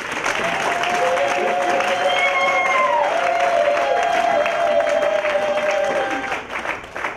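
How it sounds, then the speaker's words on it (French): A church congregation breaks into loud, sustained applause and cheering, with rising and falling shouted voices riding over the dense clapping before it thins out at the end. "Nous devons donner réellement des acclamations à notre Dieu."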